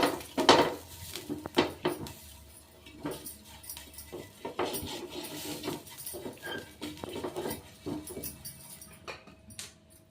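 Onion half rubbed across a hot oiled dosa pan (jonna dosa griddle), giving irregular scraping, clinks and soft rubbing bursts up close, with faint background clatter.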